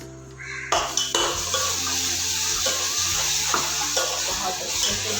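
Marinated pieces drop into a pan of ghee-rich gravy and set off a loud, steady sizzle that holds throughout, with occasional clinks and scrapes of stirring.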